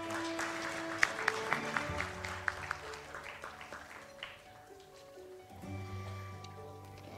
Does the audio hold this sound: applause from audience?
yes